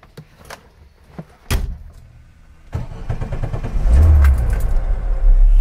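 Someone climbs into a 1982 Lada Niva (VAZ-2121): a few scattered clicks and taps, a solid door thud, keys and handling noises, then the engine cranks and catches into a low, rising rumble that stays loud at the end.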